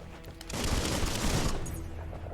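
A gun fires in the Biomutant tutorial, a dense, roaring burst of rapid shots lasting about a second before it cuts off, leaving a fainter tail.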